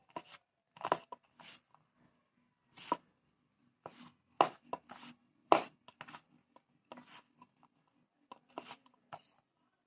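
Maida flour dough kneaded by hand for a sweet, giving intermittent soft squelching and slapping bursts close up, separated by brief quiet pauses.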